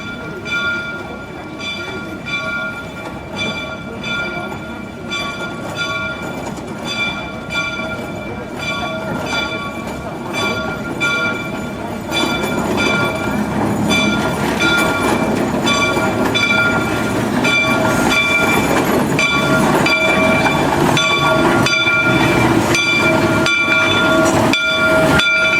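A steam train pulls in on the Cass Scenic Railroad, a loud, steady rumble of wheels and clanking cars that builds and grows nearer, with faint whistle tones running through it.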